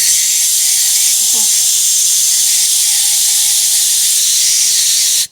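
Air hissing steadily through the A/C system core of a Cadillac with a 472/500 engine, a broad close-up rush that holds for about five seconds, then cuts off abruptly at the end.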